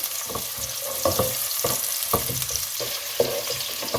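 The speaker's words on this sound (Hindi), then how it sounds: "प्याज को ऑयल में फ्राई कर लें" Sliced onion fries in hot oil with a steady crackling sizzle, punctuated by repeated rhythmic scrapes and knocks of a spatula stirring, close and unvoiced.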